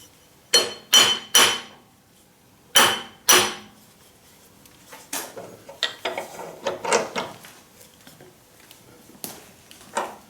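Burnishing tool scraping about 1.5 mil of metal off a top surface, heard as two bursts of rasping strokes, then a break, then a longer run of softer, uneven scraping strokes, close and fairly loud.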